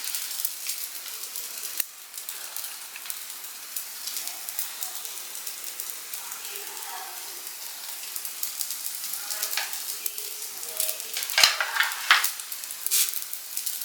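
Parotta fries in oil on a hot pan, with a steady, close sizzle and occasional crackles and scraping under intermittent talk.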